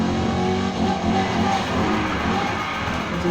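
A 2019 BMW Z4 M40i engine in Need for Speed Heat, a loud, steady high-revving drone with tyre noise, held continuously up close.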